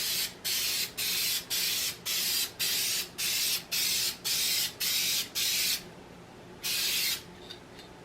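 A spray paint can lays a coat onto a papier-mâché pauldron in a quick rhythmic series of about a dozen short, loud, close hissing bursts with brief gaps between them, then a pause and one last burst.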